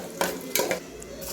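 Cashews fry in oil in a pan for masala rice, with soft sizzling under a couple of quick scraping stirs of a spoon against the metal, close and brief.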